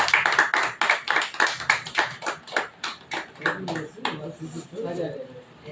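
Rhythmic clapping from a crowd at a house distribution event, a fast run of sharp, evenly spaced claps that thins and loosens toward the end as voices mix in.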